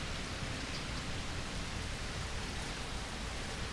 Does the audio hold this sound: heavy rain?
yes